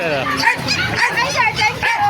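Dogs at a market stall, small ones yipping and whimpering in short repeated bursts, mixed with people talking over them.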